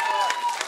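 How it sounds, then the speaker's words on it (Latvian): Brief burst of audience applause at a school etiquette session, dense and steady clapping for about a second with a murmur of voices mixed in. "aplausi Arturam"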